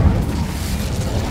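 An Incendio fire spell cast in the Hogwarts Legacy video game bursts out as a loud, deep rumbling roar that holds steady for over a second, like a sustained fiery blast.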